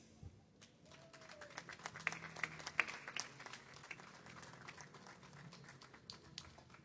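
Small audience at an online tribute concert of nostalgic music gives a singer scattered, faint clapping, sparse individual claps and taps over a quiet room tone, with no talking.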